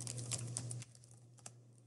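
Soft clicks of typing on a computer keyboard, a brief quiet run of keystrokes over a low electrical hum.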